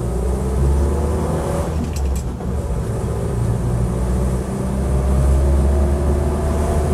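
Land Rover Series 2a 88in driving along, a continuous, close engine drone that rises and falls with revs, with a brief splashy burst partway through as it goes through a puddle.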